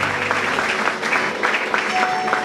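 A church congregation claps and acclaims in a steady, loud wash of applause with voices mixed in, continuous throughout.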